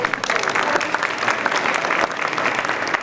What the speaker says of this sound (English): So please give them a round of applause as well.